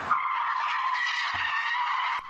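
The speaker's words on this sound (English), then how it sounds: "Teenage car thieves driving newly stolen Kias and Hyundais a demolition derby style in a Bakersfield neighborhood" A stolen Kia or Hyundai skids during reckless demolition-derby-style driving in a Bakersfield neighborhood, its tires squealing in one steady, sustained screech that cuts off abruptly, heard from a moderate distance.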